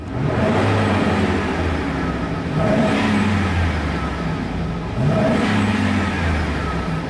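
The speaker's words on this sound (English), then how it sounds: "It sounds great when you rev it up." A 2015 Chevy Express van engine runs steadily and is revved several times, with rising swells near 2 and 5 seconds over a constant loud idle and no talking.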